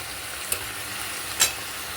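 Shrimp sautéing with onion paste, ginger paste, garlic, cumin paste and tomato in a pan, giving a faint, steady sizzle broken by two brief scraping clicks of a stirring spoon.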